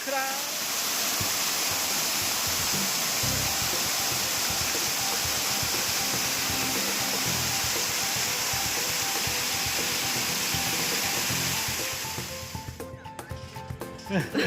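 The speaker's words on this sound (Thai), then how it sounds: "ขออภัยกับด้านเสียงเป็นเสียงน้ำตก" Steady roar of a waterfall along a jungle mountain trail, a dense broadband rush that holds constant and loud before thinning out near the end.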